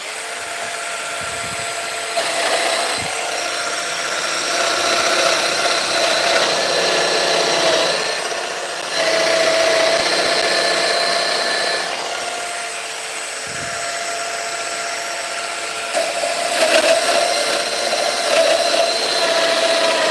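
A Festool Domino 700XL doweller cuts mortises into oak stair treads with a continuous loud motor whine and grinding hum. The drone swells and dips slightly as each cut is plunged, with no voices.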